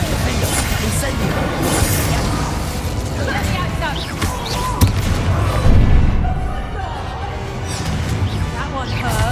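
Confringo and Bombarda explosion spells burst in Hogwarts Legacy amid busy combat, with several booming impacts, the heaviest around the middle, under a shouting voice and clattering effects.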